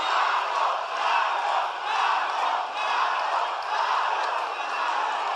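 Crowd at a political march in Brazil sending up sustained shouting and chanting in swelling waves, steady and loud with no single voice standing out.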